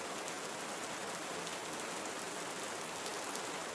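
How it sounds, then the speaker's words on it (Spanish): Rain falling in a Costa Rican tropical forest, a soft, even patter of drops on leaves and surfaces forming a continuous hiss, fairly faint and steady, with no voices. "Muchas personas encuentran consuelo en el suave golpeteo de las gotas"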